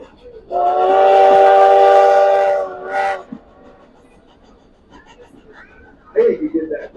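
A loud, sustained train whistle blows for about two seconds, followed by a shorter toot. A voice comes in near the end.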